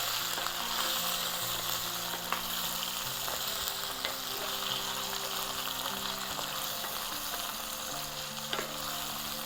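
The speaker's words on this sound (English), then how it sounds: "And keep moving the spoon in here." Capsicum and mixed vegetables sizzle steadily in a pan for a vegan vegetable curry stir-fry, with a spoon scraping and stirring through them now and then, close and continuous.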